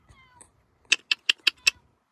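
A cat meows five times in quick succession, short bright calls close by, after a brief quiet stretch with a faint high chirp, at a camper van.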